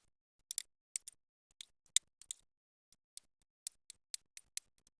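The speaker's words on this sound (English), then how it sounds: "I'm gonna use the pizza cutter. We're gonna try to cut little squares." A pizza cutter rolls over thin homemade cheese-cracker dough, cutting it into squares. Short crisp clicks and taps come one after another, close and fairly faint, over near silence.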